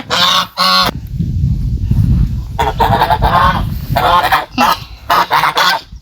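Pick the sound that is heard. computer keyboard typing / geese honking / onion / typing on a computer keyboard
geese honking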